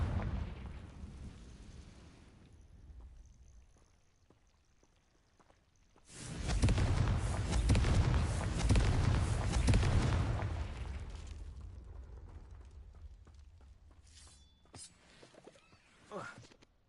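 A Confringo spell explosion in Hogwarts Legacy erupts into a loud, sustained blast and rumbling roar lasting several seconds, then fades into debris crackle with a few sharp pops near the end.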